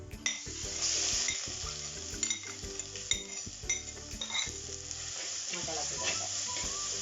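Onion, ginger, green chilli and curry leaves fry in hot oil for a fish curry, sizzling loudly while a utensil stirs and clinks against the pan in uneven bursts, with no voices.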